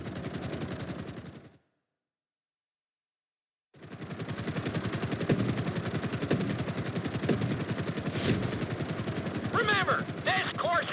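Helicopter in GTA V flight school, video game, a dense rapid rotor chop running loud, cut by a brief silent gap, then resuming with sharp rattling bursts.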